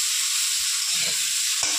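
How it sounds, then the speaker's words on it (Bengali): Cauliflower frying in oil in a pan, a constant bright hissing sizzle with a couple of faint low knocks near the end, close and steady. "ফুলকপি প্রায় ভাজা হয়ে এসছে"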